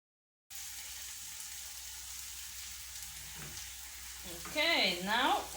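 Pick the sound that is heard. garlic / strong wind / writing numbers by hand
garlic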